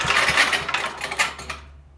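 A 1959 Motomower Shark lawn mower engine running at low idle, a rough, buzzing rattle that fades out near the end, close and without speech.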